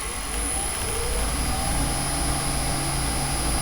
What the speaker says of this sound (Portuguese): Então vamos ligar esse motor aqui. Vamos dar a partida aqui.